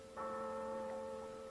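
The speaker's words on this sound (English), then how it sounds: "That's the passing bell for the dead." A church passing bell for the dead rings once, a single sustained tolling note that hums on steadily and fairly faint after the strike, with no voices.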